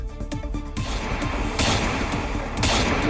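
Bursts of sharp gunshots crack out in quick succession, loud and echoing, with a dense volley of rapid fire toward the end, from a roughly 50-round shooting attack in Yamunanagar, Haryana.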